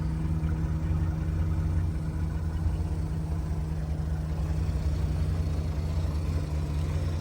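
A 1982 Chrysler Imperial with electronic fuel injection idles quietly, long parked before being revived, giving a steady low hum with a smooth even tone throughout and no voices.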